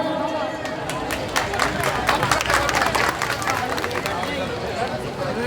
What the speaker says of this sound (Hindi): एक बार जोरदार तालियां बजती रहे भाई